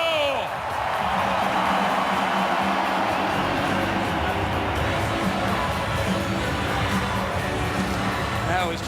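A dense stadium crowd at an Edmonton Oilers versus Toronto Maple Leafs hockey game roars and cheers for Canadian Armed Forces troops, a loud sustained wall of applause and whoops that holds steady throughout.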